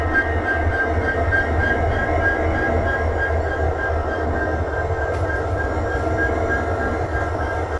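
Steady low rumble and hum of a passenger train standing at a station on the Dhaka to Agartala route, a continuous loud drone with faint tonal whine and no distinct clatter.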